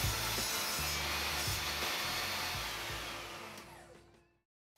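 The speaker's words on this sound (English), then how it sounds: "I held them in place with a clamp and then I cut them." Wooden table legs held in a clamp and cut with a saw, heard as a loud continuous grinding rasp that fades out and leaves a brief silence.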